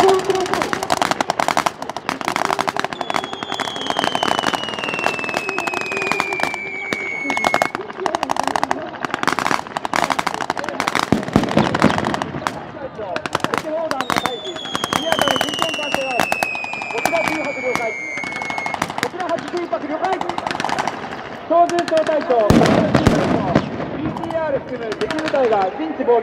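Rifle and machine gun fire during a Japan Ground Self-Defense Force infantry regiment mock battle at Takada garrison, using Type 89 5.56mm rifles and 5.56mm machine guns. Loud, rapid bursts and single shots crackle continuously, some echoing, with voices shouting over radio at times.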